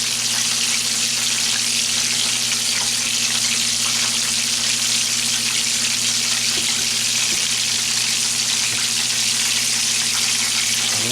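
Steady, loud sizzling and crackling of chicken deep-frying in hot oil, continuous and close, with no voices.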